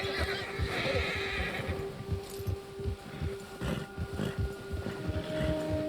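A horse in the video game Red Dead Redemption 2 whinnies and snorts while hooves clop steadily underneath, with faint wind in the background.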